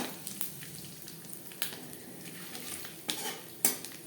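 Bay leaf and panch phoron fry in oil left from frying hilsa fish, a soft steady sizzle with a few sharp utensil clinks and scrapes against the pan, close by.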